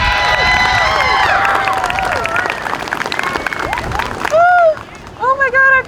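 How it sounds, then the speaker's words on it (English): A crowd at a Native American Heritage Month flag-raising ceremony in Buffalo applauds and cheers for Indigenous dancers. Loud whoops and high shouts rise over clapping, and a few sharp cries follow near the end. "Can we get another round of applause for them?"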